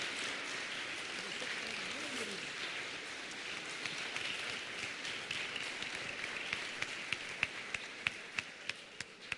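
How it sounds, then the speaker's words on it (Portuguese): Congregation applause inside a church during a family worship service with a baptism, a steady, fairly quiet wash of many hands clapping that thins toward the end into scattered, sharper individual claps. "Dá um aplauso para Jesus, irmãos."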